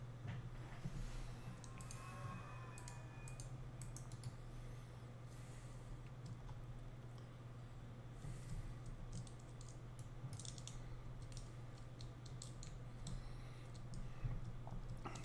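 Computer keyboard keys are typed in a Tex Murphy: Overseer game scene, a continuous run of quick, irregular clicks over a low steady hum, fairly faint with no voices.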